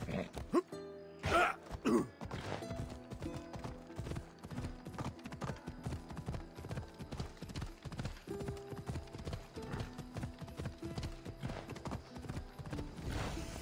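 Horse hooves gallop in the video game Assassin's Creed Odyssey, a steady rapid clip-clop rhythm running the whole time, preceded by a short whinny and snort near the start.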